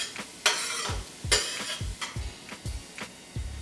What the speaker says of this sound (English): So I'm just going to stir the pot a little bit here